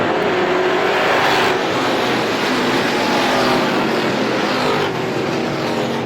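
A pack of 22 race cars roars away at the green flag start at Star Speedway, a dense, loud, sustained engine drone filling the air with no break.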